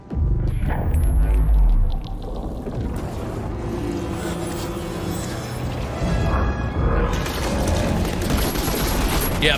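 Fortnite gunfire, a rapid rattling fusillade of automatic shots that starts loud and then continues steadily under a throbbing, humming in-game soundscape.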